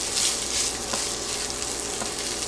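Dry rice toasting in a hot pan for Spanish rice gives off a steady, close sizzle with a bright crackling hiss and occasional soft stirring scrapes.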